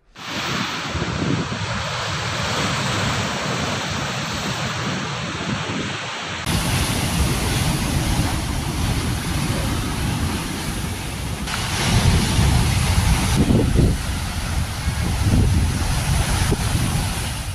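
Sea waves breaking steadily on the shore at Ullal, a continuous loud surf roar with gusts of wind noise and no voices.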